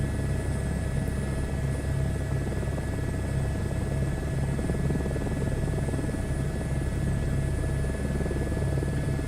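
Helicopter flying in a flight simulator video game, a constant, even rotor and engine drone with a low rumble and steady whine, unchanging and loud for the whole stretch without talk.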